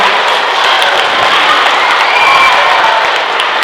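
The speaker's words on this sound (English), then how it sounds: "Let's give loud claps for Dr." A room of guests at a child's third birthday party claps and cheers loudly, a dense burst of applause mixed with children's shouts and whoops that stays full and close throughout.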